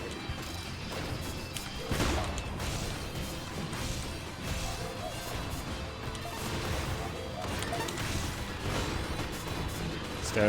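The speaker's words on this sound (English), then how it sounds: "I'm seeing lots of explosions." Busy video game action from Freedom Planet 2, with repeated explosions and crashes running the whole time, dense and loud, over game music and sound effects, with a sharp hit near the two-second mark.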